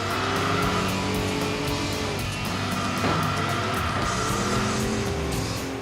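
Cars in the PS2 racing game Enthusia Professional Racing roar with high revving engines and pitch sweeps during gear changes, loud and continuous, while tires squeal and skid as they run off the road and bump other cars.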